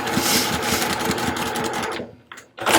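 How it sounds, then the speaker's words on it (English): A sewing machine top stitches along the folded edge of a tab on a small zip-around wallet, running in a steady rapid rhythm up close before briefly stopping and restarting. "I'll simply fold that tab back and top stitch right along that folded edge"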